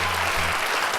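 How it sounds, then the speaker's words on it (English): An audience at a hotel event claps in a dense, steady wash of applause for the full second, loud and close, with a faint low hum beneath. "give a round of applause for Christian"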